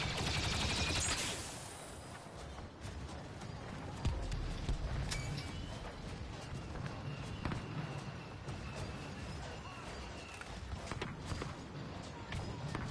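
Blaster gunfire rattles through a Star Wars Battlefront 2 battle in dense, rapid volleys, with sharp shots cutting through a constant wash of loud battlefield noise that runs for the whole stretch.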